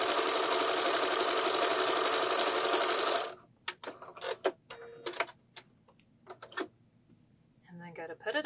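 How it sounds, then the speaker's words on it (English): A sewing machine runs a regular stitch through knit fabric, a fast, even mechanical whir for about three seconds before stopping. A voice then talks in short bursts over near silence. "So if you were to just sew your knit fabric"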